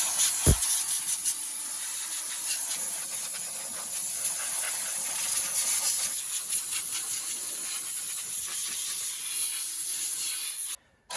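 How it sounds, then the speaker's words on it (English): Compressed air hisses in a steady, loud, continuous blast as leaves and debris are blown off the engine of an old 1971 Ford F600 truck that has sat since 1992, cutting off abruptly near the end. "we'll just take some compressed air and get all this leaves and junk off here"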